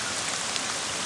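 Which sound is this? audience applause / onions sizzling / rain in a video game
rain in a video game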